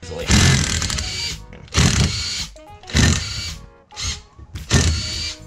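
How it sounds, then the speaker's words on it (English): Impact wrench zipping off the four 14mm rotor bolts on a Datsun 510 wagon's hub in a garage: four loud, close bursts of rattling, about a second each, with short pauses between them. "Tools needed are a 14mm socket and an impact."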